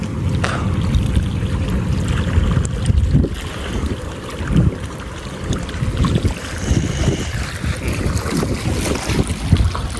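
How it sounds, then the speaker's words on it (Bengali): Trawler boat passing on a river, its low engine rumble mixed with gusting wind buffeting the microphone and lapping waves, steady and fairly loud throughout without speech. "নদীতে কি ঢেউ আর বাতাস আর ওই টলার যায়"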